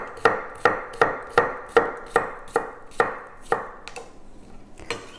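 A knife slicing cucumber thinly on a cutting board in a steady run of about a dozen crisp, close chops that slow and thin out toward the end, alone with no talk.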